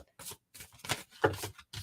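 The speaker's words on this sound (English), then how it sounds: "given a sloppy shuffle just for you guys? Sloppy shuffle." Tarot cards given a loose, sloppy shuffle, heard as several short papery riffling bursts separated by brief pauses, close and moderately quiet with no talking.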